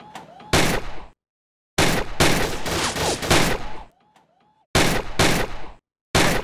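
Rapid bursts of virtual gunfire from Gun Club VR crackle in dense clusters separated by short silences, loud and close, with a faint game voice between volleys.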